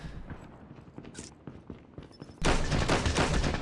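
A sharp gunshot blast in Call of Duty Mobile erupts after a stretch of quieter clicking and tapping, followed by a sustained noisy rumble.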